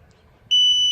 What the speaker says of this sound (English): Just gonna wait for 1 beep.